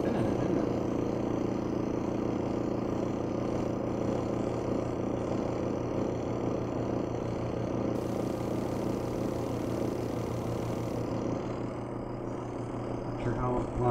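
A portable off-grid washing machine spins its drum in a steady, continuous motor whir that stays loud and even throughout, with a person talking over it.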